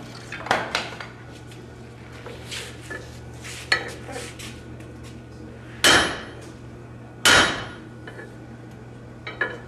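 Metal clanks and rings repeatedly at a blacksmithing conference, a series of strikes building to two loud, sharp striking-hammer blows that ring out close by.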